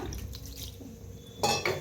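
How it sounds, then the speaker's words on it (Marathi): Cold water is poured in small amounts into flour that was first mixed with hot water: a short splash and trickle near the end, over a faint, murky background. "आता थोडंसं थंड पाणी थोडं थोडं करून"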